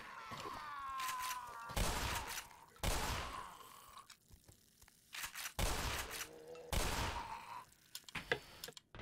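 Gunfire in Black Mesa comes in several separate loud bursts spaced across the stretch, each with a ringing tail, with quieter game sounds between them.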